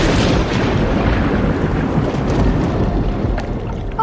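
Storm at sea in an audio fairy tale: a loud, continuous roar of wind and crashing waves with rumbling surges, like thunder and heavy swell, steady throughout with no talking.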